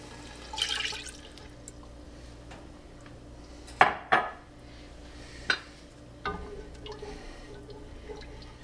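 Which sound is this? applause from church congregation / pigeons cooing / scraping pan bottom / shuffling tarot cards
scraping pan bottom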